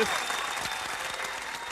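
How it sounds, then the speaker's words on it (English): Audience applause at a talk on starting a home-based business, a short steady burst of clapping from a crowd with a faint voice briefly audible at the start. "Give her a round of applause."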